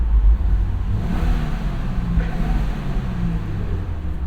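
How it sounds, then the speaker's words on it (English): A Subaru WRX exhaust revs inside a tunnel, with a loud, reverberant low engine drone that swells and holds steady throughout, with no talking. "let's do a tunnel test, see what the exhaust is like"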